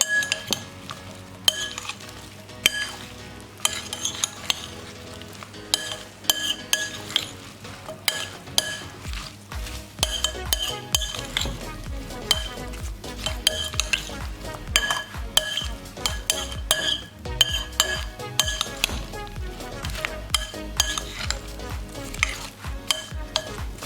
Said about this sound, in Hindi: स्ट्रॉबेरीज ऐड करेंगे। इसको अच्छे तरीके से मिक्स कर लेंगे।